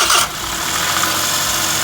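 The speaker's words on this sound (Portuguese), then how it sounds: "Dá partida aí, Marcão, vamos ver" A Suzuki Every Turbo engine cranks and catches after a bearing replacement, a short burst of starter noise settling straight into a steady, close idle with no voices over it.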